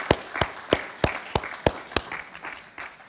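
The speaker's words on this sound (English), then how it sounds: "So please applause all the people who help us to organize the conference." Sparse, evenly spaced handclaps at a political science conference opening ceremony, a few sharp claps repeating roughly three times a second, fairly faint and fading toward the end.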